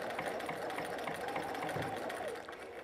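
Sewing machine running steadily at close range, a continuous whirring hum and rapid stitching rhythm as it sews a buttonhole using the Buttonhole Buster attachment, easing off slightly near the end.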